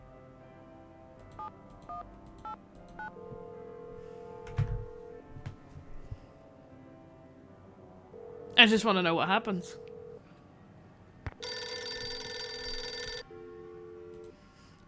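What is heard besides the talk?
phone dialing and ringing in Nancy Drew video game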